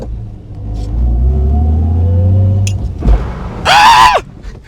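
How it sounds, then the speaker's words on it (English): BMW E46 Compact car engine revving and rumbling loudly as the handbrake turn begins, then a brief burst and a sharp high tyre squeal near the end. "Let's see if the handbrake works."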